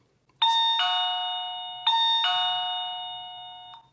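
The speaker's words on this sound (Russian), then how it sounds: "Вот такой вот дверной звоночек у нас прозвучал" A digital door peephole camera doorbell with a colour screen chimes twice in a row, each bright two-tone electronic ding-dong ringing out clearly and decaying slowly in a quiet room.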